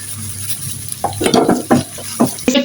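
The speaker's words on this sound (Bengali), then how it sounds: "এখন আমি লবণ দিয়ে একটু ভেজে নিব, পরিমাণ মতন লবণ দিয়ে ভেজে নিব।" Dried Bombay duck (loitta shutki) frying with salt in a pan, with a steady hiss under a few quick scraping stirs and clinks of a spatula, close and fairly loud.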